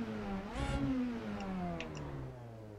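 Ford Focus MK2 mod in the Assetto Corsa racing game, engine revving up then settling into a steady droning tone, a smooth pitch rise and fall with faint ticks above, fairly quiet.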